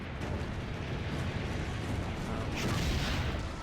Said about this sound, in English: that is a lot of cannons.